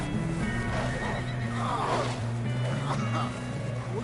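A horse whinnies and snorts amid clip-clopping hooves in the video game Red Dead Redemption 2, with a steady background rumble and a voice speaking.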